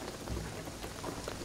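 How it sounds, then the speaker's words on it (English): Steady rain pours on a beach in Shadow of the Tomb Raider, a dense even hiss of falling drops with a low rumble underneath, at a moderate level throughout without any voices. "the rain is gonna flood the beach"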